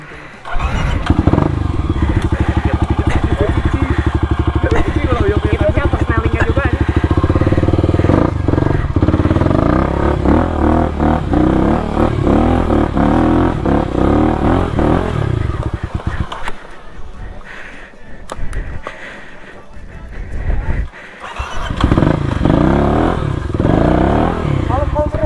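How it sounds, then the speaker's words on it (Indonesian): A motorcycle ridden up a mountain hiking trail to Puncak Upas on Gunung Tangkuban Parahu revs loudly and steadily close by, dips briefly, then roars back, with voices over the engine. "aing naikin motor heula"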